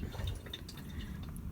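Water from a foot pump sink in a minivan kitchen runs in a faint, short trickle and splash, close by and quiet, with no talking.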